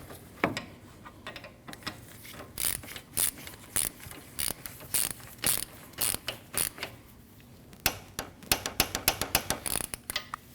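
A ratchet wrench torques down two nuts on the AC condenser of a 2013–2019 Ford Escape 1.5L, a close series of sharp rhythmic clicking bursts in quick strokes with short pauses, no talking.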